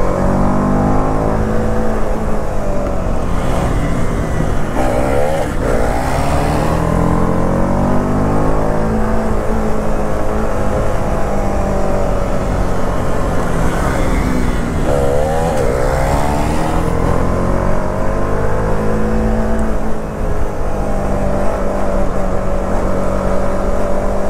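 A motorcycle engine roars loudly and continuously during a wheelie run between an Apache RR310 and a Duke 390, its pitch rising and falling with throttle changes.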